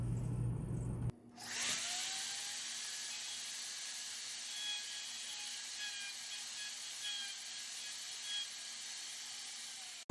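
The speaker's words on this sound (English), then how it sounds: "let the router bit gently touch the upper left corner" A router bit cuts a 10-degree surface into a wooden bench leg, a high, steady whine after a short burst of startup noise, holding an even pitch for about nine seconds before cutting off.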